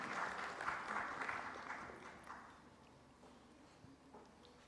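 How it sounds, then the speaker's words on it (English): An audience at the 7th Manohar Parrikar Vidnyan Mahotsav 2025 science festival applauds to welcome a speaker; steady hall clapping is moderately loud at first, then thins and fades to a faint patter. "I request all of you to welcome sir with applause"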